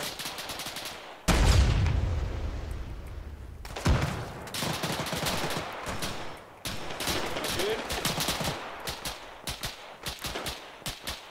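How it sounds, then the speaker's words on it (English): Bursts of machine gun fire from a technical in a military shooter game, crackling in loud volleys with scattered single shots and heavy thumps, some close and some farther off, continuing through the battle. "There's a technical with machine gun up there."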